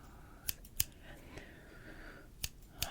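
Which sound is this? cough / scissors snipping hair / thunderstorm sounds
scissors snipping hair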